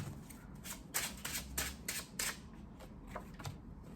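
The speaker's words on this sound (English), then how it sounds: "I'm going to just shuffle one more time" A deck of cards being shuffled by hand, with a quick run of crisp riffling bursts and soft slaps repeating for several seconds at close range over a low room hum.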